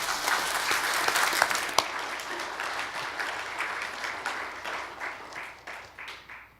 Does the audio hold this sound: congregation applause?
yes